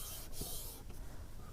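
A damp sponge rubs across chalk letters on a chalkboard, making a soft, continuous hissy scrub with a few brief strokes. It is quiet and close, with no talking.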